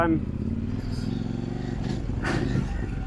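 A Kove 800X Rally motorcycle being ridden, its engine a low steady drone near and constant, with a brief whoosh of passing wind or traffic partway through.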